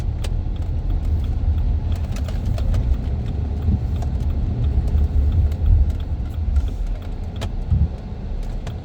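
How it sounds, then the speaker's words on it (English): A football helmet sits loose in the back of a moving car and rattles over a steady low engine and road rumble. Scattered light knocks and clicks come through now and then without a regular rhythm. "I think I hear my football helmet in the back rattling a bunch"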